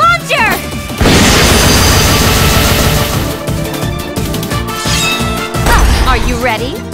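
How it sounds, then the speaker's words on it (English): A multiple beam launcher attack from the Neptunia ReVerse final battle plays as a loud, dense barrage of crashing, booming blasts that runs almost the whole time, with chirping energy sweeps at the start and near the end. "Multiple beam launcher!"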